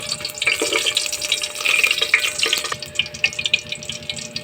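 Garlic sautés in a pan while Filipino vegetables are being cooked, giving a steady close crackling sizzle with a few light clinks and watery splashes. No one speaks.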